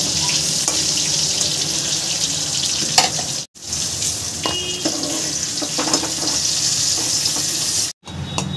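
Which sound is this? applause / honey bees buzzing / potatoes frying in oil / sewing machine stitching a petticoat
potatoes frying in oil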